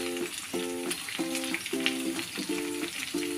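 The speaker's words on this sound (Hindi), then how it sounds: "चिकन हमारा फ्राई हो रहा है" Chicken wings frying in a home kitchen, a steady close sizzle with faint stirring scrapes, while a repeating tonal chirp pattern sounds under it; no speech.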